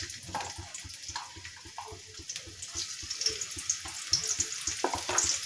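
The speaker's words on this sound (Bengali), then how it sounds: "পেঁয়াজটাকে আমি হালকা লাল করে ভেজে নেব" Quiet sizzling of onions frying in oil in a wok, with irregular clicks and scrapes of stirring and a watery hiss, close by.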